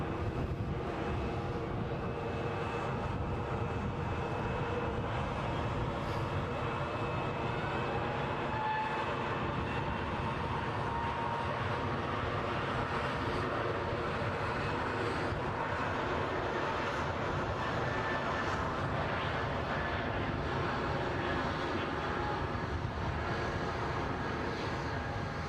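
A jet airplane moves on the ground at Edinburgh airport, giving off a continuous broadband engine roar with a steady whine, heard from a distance and holding at an even level without pause.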